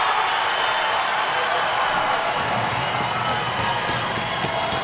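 A dense, steady wash of crowd noise at an NCAA women's hockey championship game between Wisconsin and Ohio State, with broad clapping and cheering sustained evenly throughout.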